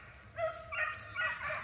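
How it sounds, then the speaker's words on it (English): A beagle bays on a rabbit's trail outdoors, a few rising yelping barks in quick succession, moderately close over a low rumble of background noise. "He barking the ground bad."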